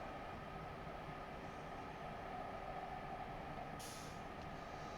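Train rumbling steadily along a high-speed LGV line from Marseille to Avignon in a train simulator game, a continuous low drone with a brief hiss near the end, no talking.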